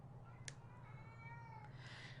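A house cat lets out a single soft, drawn-out meow from a little distance, faint over a steady low hum, with a brief click near the start.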